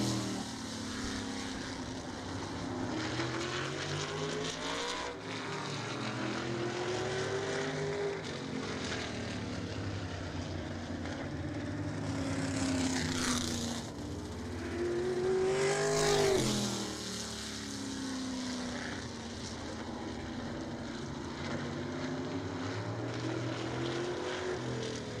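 Stock cars idle and rev on an oval track before a race, a steady loud engine drone with rising and falling revs as they circle for warm-up laps, with crowd and track ambience.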